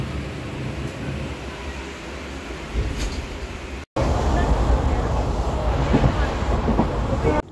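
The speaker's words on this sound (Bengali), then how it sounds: "আমাদের ট্রেন প্রায় 3 ঘন্টা লেটে চলছে" A passenger train running well behind schedule rumbles steadily with a low broadband roar, briefly dropping out near the middle, then returning louder and closer through the second half.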